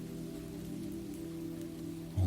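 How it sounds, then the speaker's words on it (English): Gentle summer rain pattering steadily on a surface at night, a soft even hiss throughout, with a brief low thump at the very end. "only the gentle sound of summer rain"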